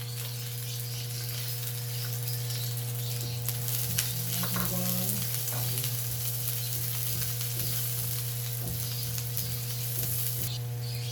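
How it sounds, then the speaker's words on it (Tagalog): Onion and garlic sauté in oil in a pan for cabbage with tuna, a continuous bright sizzle with occasional stirring scrapes and clinks, steady throughout over a constant low hum. "Igisa natin yung ating sibuyas."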